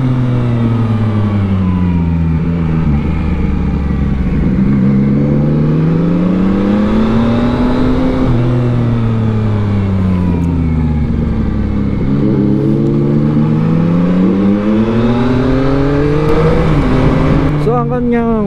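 A Yamaha MT-09 motorcycle engine revs up and down repeatedly during a test ride, with sharp rev-matching blips on each downshift, loud and close, with a voice faintly underneath.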